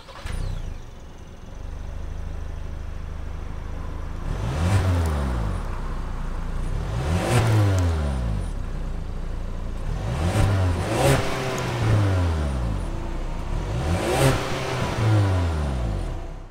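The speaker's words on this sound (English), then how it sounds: "that was the sound of the 2-liter turbo sold by Ford for this all-new 2022 Maverick Lariat" A 2022 Ford Maverick Lariat pickup with the 2.0-liter turbo engine and AWD starts up close by, then revs hard several times in a row, each surge rising and falling back to a steady idle between them.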